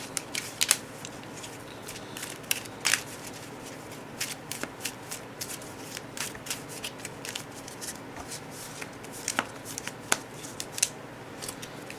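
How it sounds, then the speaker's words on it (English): Quiet riffling and soft snapping of a Cardfight!! Vanguard trading card deck being shuffled, in short irregular bursts with brief pauses, close by and fairly faint. "And then shuffle our deck."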